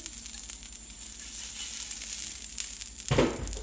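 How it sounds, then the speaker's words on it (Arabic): Butter sizzling in a hot frying pan, a soft steady crackling hiss that bursts into a louder, sharper sizzle near the end, with no talk. "من بعد ما درت المقله سخنات غندهنها بشويه ديال الزبده على هاد الشكل"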